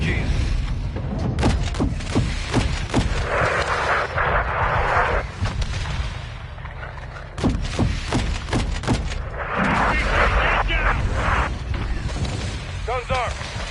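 Heavy gunfire and booming explosions from RPG fire in the Modern Warfare video game, with repeated sharp blasts and continuous loud combat rumble throughout, under frequent shouted military radio talk.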